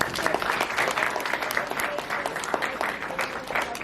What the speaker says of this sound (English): So please give them a warm round of applause.